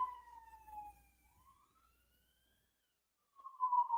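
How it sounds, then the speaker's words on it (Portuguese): A faint police siren wails in the distance, its pitch sliding down then up, fading out before swelling louder again near the end. "A sirene passou aí, é caso de polícia."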